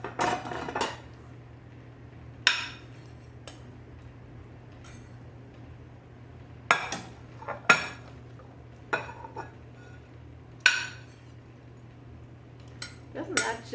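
Mushroom stroganoff being dished up, with scattered clinks of dishes and cutlery in bursts over a low steady hum, some close and sharp, others softer.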